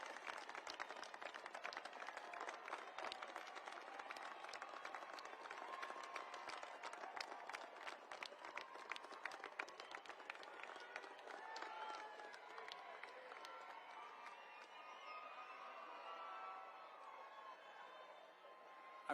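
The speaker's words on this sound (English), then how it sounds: "Stand up and give them a round of applause." Air Force Academy graduates at a large outdoor commencement applaud their families, a long, dense roar of many hands clapping with scattered cheers, loud and sustained before gradually thinning out toward the end.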